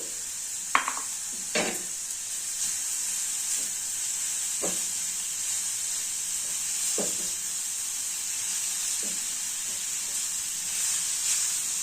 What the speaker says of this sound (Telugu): తొందరగా ఉడికిపోతుందండి గుమ్మడికాయ